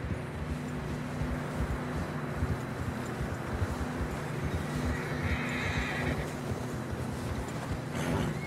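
A horse whinnies in Red Dead Redemption 2 amid steady hoofbeats and constant rushing wind, the neigh rising briefly above the dense outdoor noise.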